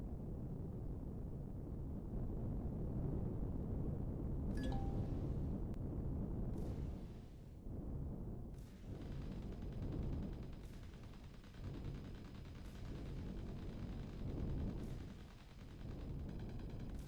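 In the space game Empyrion, plasma cannons pound a harvester until it is destroyed, heard as a heavy, continuous low roar broken by repeated thudding impacts and bursts, loud and dense throughout.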